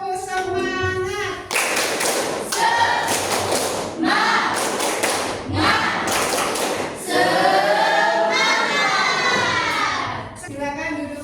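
A school class standing to do tepuk semangat, a rhythmic spirit clap: bursts of patterned group clapping in quick beats with children chanting along, loud and near, broken by short pauses between sections.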